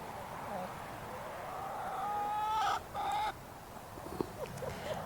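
Hens on a farm hillside, one a broody hen, cluck and give a few drawn-out calls, soft and close, over faint background noise.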